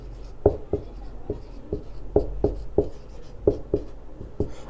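Chalk or marker strokes on a classroom board while writing the chemistry word hydrogen, a series of sharp, irregular taps and scrapes, fairly close and alone with no talk.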